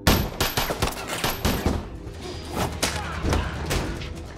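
Rapid gunfire rattles through an action film shootout, dense overlapping shots and thuds cracking loudly and continuously with no pauses, close and forceful throughout.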